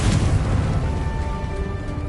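A Confringo explosive spell in the video game Hogwarts Legacy booms with a loud, rumbling blast that decays into a steady roaring tail with faint ringing tones.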